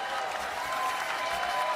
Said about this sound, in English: can we please give a round of applause to this unbelievable baseball player